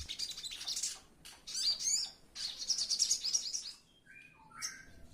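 A caged sogon bird hung uncovered near other birds chirps in bright, rapid bursts of tweets and trills, several close phrases separated by short pauses, with a few higher whistled notes at the end.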